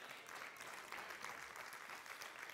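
Church congregation clapping during a sermon, a fairly faint, distant wash of steady applause that continues evenly without breaks.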